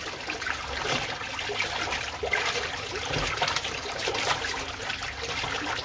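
Water poured from a barrel to mix sugar syrup for bees, a steady splashing trickle running continuously at moderate loudness.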